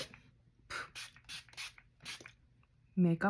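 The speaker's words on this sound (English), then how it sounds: "So I am going to spray my Glow Fix by Makeup" Several short hissing bursts of a pump spray of makeup setting spray, spaced irregularly, followed by a brief voice at the end.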